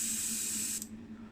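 Tamiya White primer sprayed from an aerosol can over a Matchbox S&S Cadillac ambulance model casting, a steady close hiss that cuts off sharply near the end, leaving a low hum.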